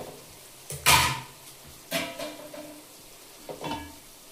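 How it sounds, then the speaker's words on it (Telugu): Tomato pieces drop into a frying pan and get stirred, giving three short bursts of sizzle and scraping, each a loud splash of frying noise that fades, with quiet gaps between and no talk. "టమాటా ముక్కలు వేయాలి."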